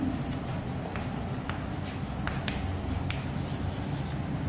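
Chalk or marker scratches across a board during a physics lecture, with steady close strokes and a few sharp tapping hits, over a constant room hum and no speech.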